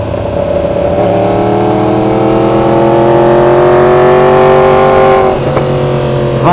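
A 2015 Ducati Hypermotard motorcycle engine pulls hard while riding on mountain roads near Dahlonega, loud and close, with its pitch climbing steadily through a sustained run before a brief dip near the end.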